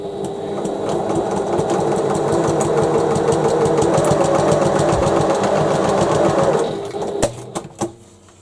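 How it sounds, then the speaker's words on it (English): A sewing machine stitches diagonally across the corner of a midi tote bag, running as a loud, steady whirring chatter for about six and a half seconds before stopping, followed by a few clicks and handling knocks. "So you draw a line from the top corner to the bottom corner and stitch across it."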